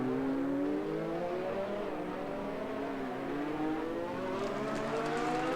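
Race cars in a racing video game, an F1-style Haas among them, run side by side with steady droning engines that slowly rise in pitch under acceleration out of a corner, loud and continuous with no talk.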